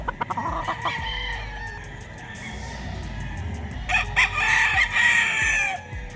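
A White Kelso gamecock rooster at a Firebird game farm crows loudly close by, the drawn-out call standing out near the end over steady farmyard background noise and softer clucking.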